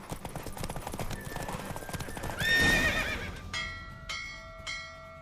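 A horse in The Witcher 3 gallops with quick hoofbeats, then lets out a loud whinny midway before the hooves fade and bright bell-like chimes ring out near the end.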